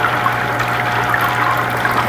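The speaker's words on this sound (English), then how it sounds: "Now we got this little waterfall happening." Water from a pump outlet trickles and splashes into a classroom hatchery tank like a small waterfall, a steady close bubbling flow over a constant low mechanical hum, with no voices.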